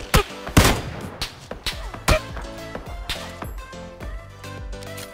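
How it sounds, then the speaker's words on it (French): Gunfire in PUBG: a string of sharp, loud shots at uneven intervals, some close together in quick bursts, each ringing out briefly with echoing tails. "C'est lui qui tire là, fais gaffe Tox."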